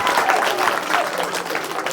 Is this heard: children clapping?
yes